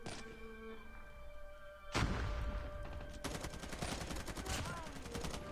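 M4 rifle fired in Call of Duty Mobile multiplayer, heard as rapid automatic bursts of gunfire that start abruptly and continue in a dense rattling stream, loud and close, with faint game sounds before it.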